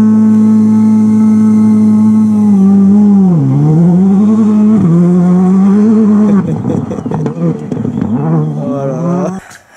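A Skoda R5 rally car fitted with a V6 engine, loud and close, holding a steady engine note, then dipping and rising through gear changes and throttle blips, growing rougher and choppier toward the end.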